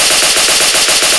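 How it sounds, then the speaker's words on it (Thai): Rapid, continuous automatic gunfire from a video game, a loud, dense burst of rattling shots with no pause, close and filling the whole moment. "สาดกระสุน"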